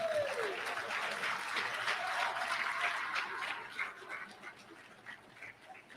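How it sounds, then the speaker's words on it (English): An audience at a conference applauds chiefs, a dense wash of clapping that stays loud for about three seconds before thinning out and fading to scattered claps. "All right, give them a round of applause."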